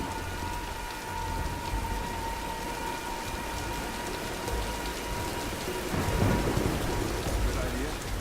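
Steady heavy rain and a thunderstorm in the video game Tomb Raider, a constant hiss of downpour with a low rumble of thunder swelling near the end.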